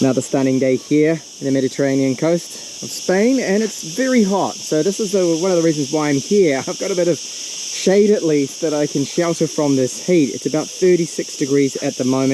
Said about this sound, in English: I apologize for the noise of those cicadas.